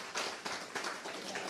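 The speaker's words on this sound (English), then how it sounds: "yes, a round of applause." An audience applauds panelists at an arts business panel: a dense, steady wash of many hands clapping together, fairly close and unbroken for the short stretch.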